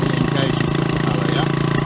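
Small air-cooled Honda outboard engine on a Jeanneau Sun Odyssey 379 yacht's tender, revving up as the propeller engages, a loud, close, steady buzzing drone with a rapid chugging pulse.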